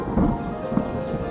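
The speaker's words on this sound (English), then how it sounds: "a great thunderstorm raged outside" Thunderstorm raging outside a building: low rolling rumbles of thunder over a continuous wash of rain, with a couple of heavier swells and no voices.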